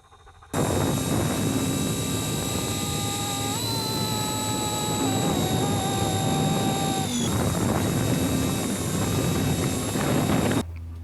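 A large helicopter flies close by after a first flight, its loud turbine whine and rotor roar steady and near for about ten seconds, with a slight pitch shift midway, then it drops away at the end.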